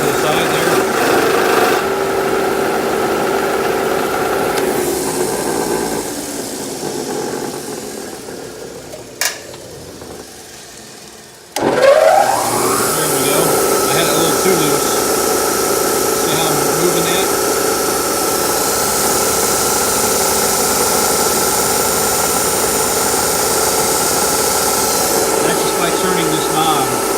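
Burr King model 760 belt grinder in a home shop running at a steady loud whine, briefly quieting, then surging back up with grinding contact against a part, a voice talking over it.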